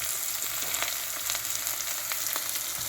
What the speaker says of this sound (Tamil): வெங்காயமும் பூண்டும் ஓரளவு நல்லா வதங்கி வரட்டும்.